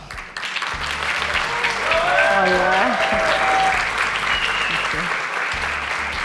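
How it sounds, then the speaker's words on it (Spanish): A strong round of applause welcoming a guest speaker at an education week event, full crowd clapping throughout, loud and steady, with a greeting and cheerful voices rising over it. "Vamos a recibir con un fuerte aplauso a"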